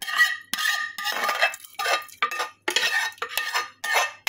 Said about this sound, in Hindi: इसको भी मैं इसमें मिक्स कर दूंगा।